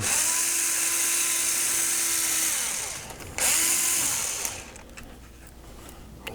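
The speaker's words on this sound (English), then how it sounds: "we'll just take these 4 bolts out" A power tool whines loudly at close range while backing bolts out of the motor on a Rescue 911 pinball machine's helicopter. It runs in two high-pitched bursts with a short pause between them, then stops and leaves quiet room tone.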